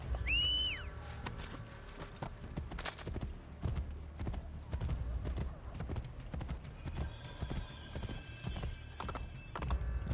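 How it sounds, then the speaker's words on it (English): Steady clip-clop of horse hooves in Assassin's Creed Brotherhood, with game soundtrack and ambient noise, plus a brief whinny near the start; no talking. "I'm gonna steal this horse, because it goes better with my outfit."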